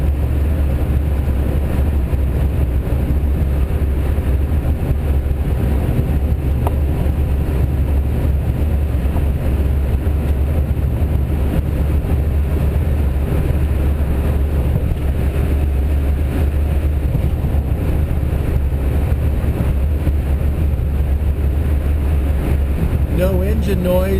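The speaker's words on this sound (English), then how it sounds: "we have plenty of wind noise through old gaskets and so forth" Steady broadband wind roar seeps through the worn door gaskets of an unrestored electric Karmann Ghia cruising at freeway speed, loud and continuous with no engine note.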